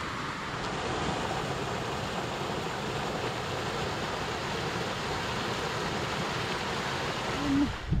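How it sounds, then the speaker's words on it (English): Mountain stream at a trail water crossing in the Inyo Forest on the road to Mt. Whitney, a steady broadband rush of flowing water heard alone and close, unbroken for several seconds. "This is your first water source right at the first water crossing."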